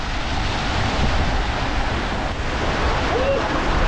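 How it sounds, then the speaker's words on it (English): Steady roar of wind and surf over the open Atlantic Ocean in bad weather aboard a sailing catamaran, loud and continuous, with rushing wave noise filling the whole clip. "it's wavy, it's windy"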